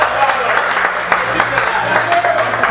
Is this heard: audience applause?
yes